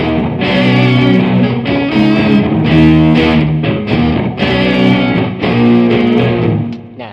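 Mixed distorted electric guitar playback, loud chugging power chords in a steady rhythmic riff with saturation and reverb, clean and prominent with no talking.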